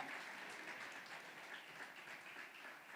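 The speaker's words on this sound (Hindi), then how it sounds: "प्रभु के लिए ताली बजाएंगे।" Audience applause at a church spirit conference, a faint, steady wash of clapping heard from a distance for a few seconds.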